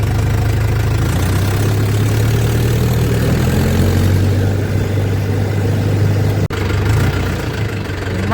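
A tractor engine runs loud and close while tractors work to pull another tractor out of deep mud, giving a steady low idling rumble with one brief dropout near the end.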